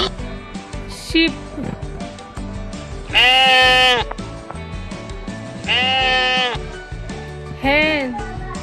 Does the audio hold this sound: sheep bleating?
yes